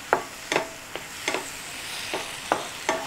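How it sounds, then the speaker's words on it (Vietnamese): Diced pineapple gets stir-fried in hot oil, with a soft continuous sizzle broken by about seven distinct scraping strokes of a utensil against the pan in an uneven rhythm, close and without speech. "Mình chỉ đảo đều qua thôi cho thơm của mình nó chín ha"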